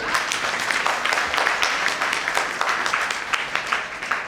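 Audience clapping at a networking business meeting, a steady round of applause with some sharper individual claps standing out near the end.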